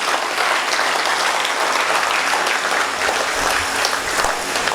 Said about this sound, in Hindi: मैं चाहता हूँ पूरा सदन एक बार मेरे बेहतरीन दोस्त के लिए, बेहतरीन शायर के लिए हाथ खड़े करके तालियां बजाएं